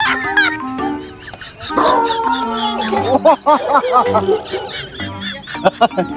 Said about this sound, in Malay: Nanti you punya anjing kasih diam dulu lah.